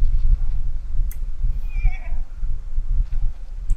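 Horse neighing in the survival game ARK, a single close whinny rising and falling over a low rumbling background, with faint clopping-like knocks around it and no speech.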